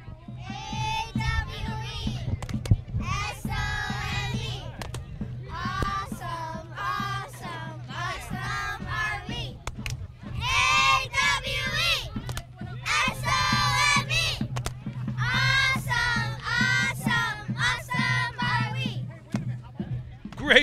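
Junior cheerleaders at a Memorial Day parade shout a cheer in unison, a series of loud rhythmic chanted bursts from a group of young voices with short pauses between lines, over a steady low hum.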